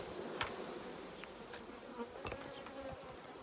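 Honey bees buzz around queen cells being moved into finisher colonies, a faint steady hum with scattered brief clicks and handling knocks, no talking.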